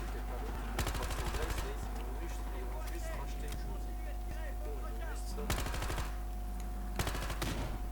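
Rifle fire in the shooter Battlefield Hardline, with bursts of rapid close shots in three separate volleys over steady background game noise, and a voice speaking between them.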